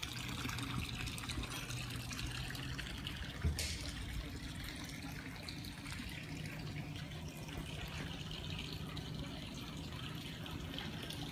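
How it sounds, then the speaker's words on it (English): A 2004 Four Winns 268 boat discharges cooling water from its air conditioner out the side, a faint steady splashing trickle with low background hum and one brief knock, no talking. "Got the air conditioner going, so that's why there's water pumping out the side right there."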